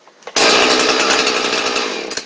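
A Husqvarna 445 chainsaw fires up after a pull on the starter cord: a brief rattling tug, then the two-stroke engine bursts into a loud, close, buzzing idle that holds and slightly settles.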